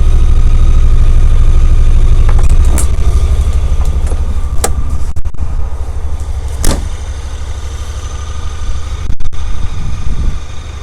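A 2016 Honda Pioneer 1000 EPS side-by-side with a full cab idles loudly and close, its engine running with a steady low drone while a few sharp clicks and taps sound over it.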